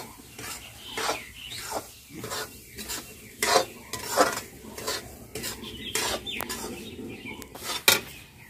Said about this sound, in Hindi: अब इसको मीडियम आंच पे अच्छे से भूनेंगे।